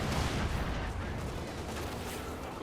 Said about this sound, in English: another artillery barrage right around the Bofors and the 6-pounder gun